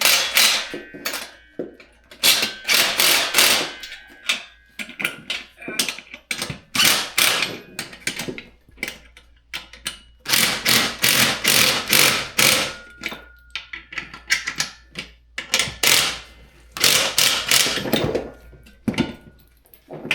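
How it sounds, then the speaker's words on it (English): An impact wrench tightens bolts while a chest press machine is assembled, giving repeated loud rattling bursts of hammering, about a dozen short runs separated by brief pauses, close and harsh, no talking. "So I'll throw my 17 millimeter wrench on this side and my impact on the other."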